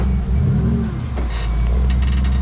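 A high-revving LS-powered car at the Power Weekend Memorial meet at Frontenac Farms, its throaty engine roaring loud and close and holding steady with small rises in revs throughout, with no talking.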